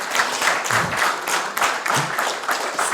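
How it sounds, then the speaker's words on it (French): Audience applause at a French press conference, a steady patter of hand claps from a modest crowd filling the whole stretch at moderate loudness, with no talk over it. "On peut peut-être applaudir quand même un peu"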